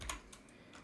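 A few quick, light keystrokes on a computer keyboard while entering an expression in motion-graphics software, close and fairly quiet with short gaps between taps.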